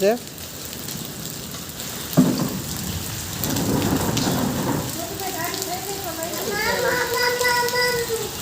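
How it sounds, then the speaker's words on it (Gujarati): Hail drums steadily, then a deep roll of thunder rumbles through midway; people speak over the constant clatter toward the end. "જો અવડા કરા પડે"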